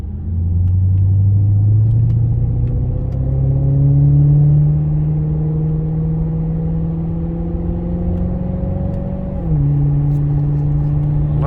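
Maserati Quattroporte Sport GTS engine cruising on the highway, a loud, steady low rumble with slowly climbing pitch before a clear upshift drops the tone near the end, heard alone without talk.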